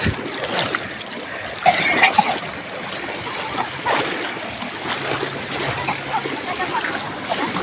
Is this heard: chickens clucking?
no